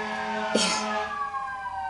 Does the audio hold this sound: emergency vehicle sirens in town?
yes